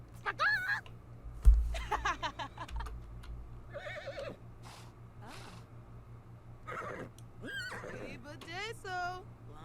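A horse whinnies several times between snorts and shuffling, fairly close, with quiet voices in the background.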